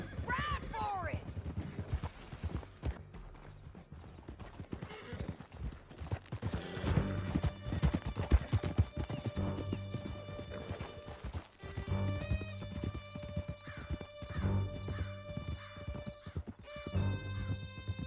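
Horses gallop with rapid clip-clop hoofbeats and whinnies during a chase through a canyon in the video game Red Dead Redemption 2, mixed with game music and shouted voices over continuous dense action.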